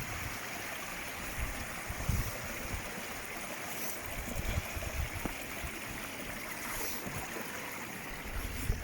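Steady rushing water of a stream with a small waterfall, on the River Ashop in the Peak District, England, flows continuously, a broad, noisy wash with occasional soft thumps and rustles close to the microphone.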